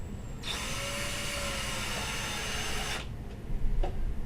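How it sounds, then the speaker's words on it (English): Power drill driving screws into a guitar body from a STEM guitar economy kit: a steady close whirring run of about two and a half seconds, then a short clicking burst as the clutch engages, with no talk. "you heard the clutch engage to where it doesn't over tighten the screw"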